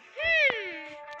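A green cartoon cat in a children's fox-family cartoon lets out a single drawn-out meow, close and loud, that rises then slowly falls, with a short thump partway through.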